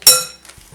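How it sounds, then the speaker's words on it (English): A spoon scooping dry bath tea mix into tea bags gives one bright, ringing clink against a container, then a few soft scrapes and taps close by. "we're going to spoon this into these tea bags"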